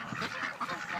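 Ducks being fed bread give short, nasal quacks in quick, uneven bursts, close by and moderately loud, with no talking.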